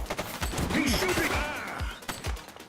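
A suspect's gunfire pops in a police chase in the video game The Precinct, several sharp shots spaced across the scene while a voice calls out over them.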